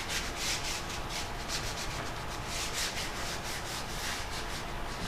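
Sandpaper rubbing steadily over a clear coat finish on stained oak panels, a continuous close scratchy hiss with rhythmic back-and-forth strokes and no talking.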